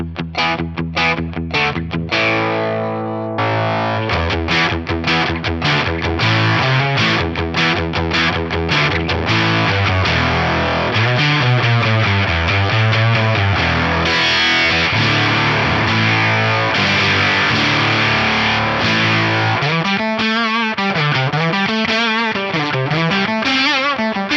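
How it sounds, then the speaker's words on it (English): An electric guitar plays through a heavy octave distortion, sounding fuzzy, spitty and synth-like, with sustained notes and bending pitch swells, loud throughout. "I'll just turn the octave distortion on at stock settings"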